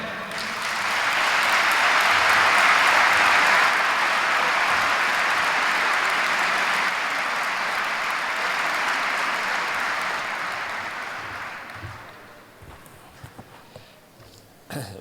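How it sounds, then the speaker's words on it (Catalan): Crowd at a national pro-independence rally applauds Pere Pugès, a large swell of clapping rising quickly, holding loud for about ten seconds, then thinning out to a few scattered claps and small knocks. "Un aplaudiment per ell"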